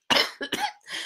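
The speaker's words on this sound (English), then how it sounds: "I'm about to cough." A single close cough, a sharp burst followed by two or three quick rasping follow-ups and a breathy tail, alone in silence.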